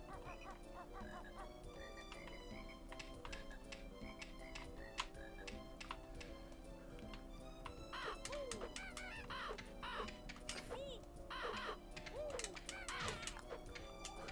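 Crows cawing in the Banjo-Kazooie video game, several harsh caws repeating against busy game music and effects, faint and mixed into the background, no talk.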